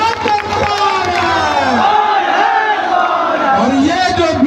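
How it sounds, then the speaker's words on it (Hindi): A large, densely packed crowd at a political rally in a village roars and cheers continuously, loud and dense throughout, with shouted voices and whoops rising from the mass of people. "और ये जो भीड़ है खचाखच भरा हुआ"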